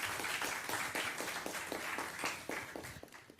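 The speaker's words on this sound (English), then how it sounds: "Let's give a big clap to this Grandmaster." A crowd at a meditation leaders' conference claps steadily for a few seconds, the applause fairly even and moderately loud, tapering slightly at the end.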